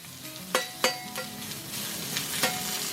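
Vegetables sautéing in a pan for a Philly cheesesteak, a steady close sizzle broken by a few sharp scraping stirs of the spatula against the pan.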